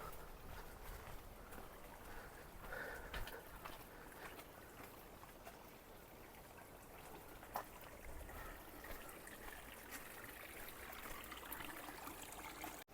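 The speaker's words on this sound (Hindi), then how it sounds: "ये नदी का पानी है भाई जो इधर ना डायरेक्ट होके आ रहा है।" River water rushes steadily along a mountain route between Manali and Jispa, a constant broadband wash close by with no voices over it.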